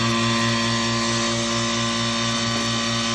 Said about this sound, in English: let's make this thing operate.